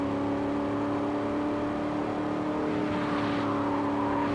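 A car engine in the racing game Gear Club holds a steady, loud, close drone with strong harmonic tones and a slight rise near the end, heard alone with no talk.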